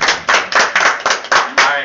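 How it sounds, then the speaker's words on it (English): Clapping at a leadership talk, seven evenly spaced loud close claps in a quick steady rhythm, like a single person or small group clapping together. "So let's give ourselves a round of applause."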